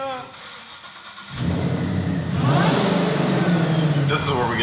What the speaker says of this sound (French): Ce que t'entends, c'est les 725 chevaux. Ce moteur génère énormément de puissance